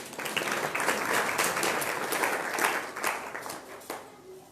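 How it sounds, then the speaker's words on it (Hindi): Loud, sustained applause fills a Srimad Bhagwat Katha religious discourse gathering, a dense crowd of clapping hands that swells and holds steady throughout, with no speech over it. "जोरदार ताली बजाएं।"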